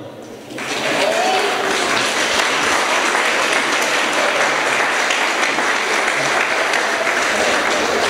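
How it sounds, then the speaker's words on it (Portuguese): A church congregation bursts into loud, sustained applause that fills the whole stretch without pause. "dá um aplauso ao Senhor"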